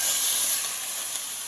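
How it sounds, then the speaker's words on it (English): Steak sears in a hot cast iron pan, a steady loud hissing sizzle close up, continuous and alone with no voices. "sizzle, and that's exactly what we want."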